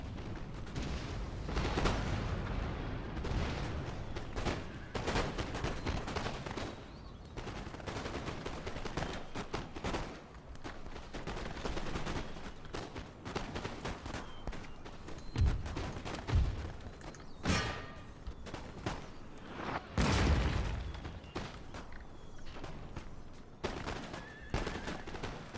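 Musket volleys and artillery fire rumble across a Total War: Empire battle, dense crackling gunfire with repeated heavy booms, loud and continuous throughout, with no one talking.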